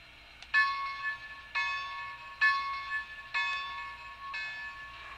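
A Lionel LionChief Plus 2.0 Nickel Plate Road #765 Berkshire toy locomotive's bright electronic bell clangs in five evenly spaced strikes, each ringing out briefly before the next, with a low steady hum underneath.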